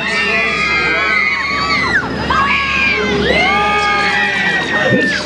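Children and riders screaming and whooping together on a Miami-style funfair ride called Dance City at a family fireworks fiesta, a loud continuous crowd of high overlapping shrieks rising and falling close by.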